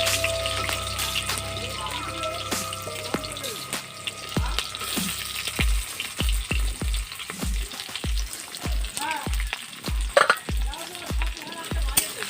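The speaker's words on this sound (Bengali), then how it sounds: "এবার আমি কেটে রাখা পেঁয়াজ আর লঙ্কা দিয়ে দেব" Chopped onion and chilli dropped into hot oil with cumin and dried chilli, a loud sizzle followed by a rhythmic series of spoon or spatula knocks against the pan as it is stirred.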